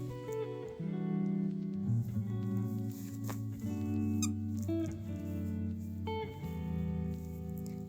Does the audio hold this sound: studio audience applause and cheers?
no